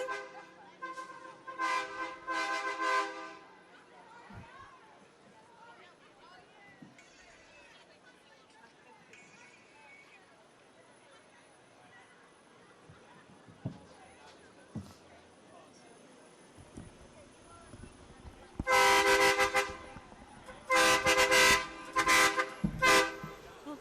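An 18-wheeler truck at a Martin Luther King Jr. parade in San Diego blasts its air horns in loud repeated bursts, one group at the start and several more near the end, with crowd noise and talk in between.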